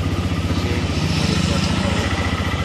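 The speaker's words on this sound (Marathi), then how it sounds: "आपण बाईक आता स्टार्ट करून पाहूया कशा पद्धतीने बाईकची जे फायरिंग आहे।" A TVS Raider 125 motorcycle engine running at a steady, close idle, a loud even low throb with a rapid regular pulse throughout.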